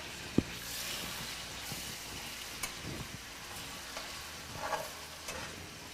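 Chicken sizzling in a pan with ginger-garlic paste, a soft steady fry with occasional stirring clinks, faint and close, no talk.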